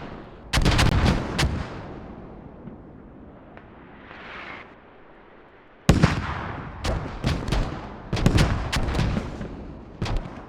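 Mortar fire in a team-based military video game: heavy booming blasts in two loud clusters with rumbling tails, separated by a quieter stretch of fading rumble.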